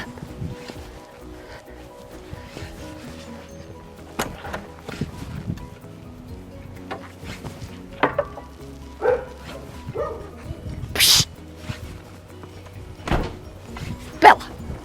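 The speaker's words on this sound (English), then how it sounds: "They're barking because I'm filming." Dogs bark in a garden, including one named Bella, with scattered barks and yips at varied distances breaking through outdoor background noise, with people talking at times.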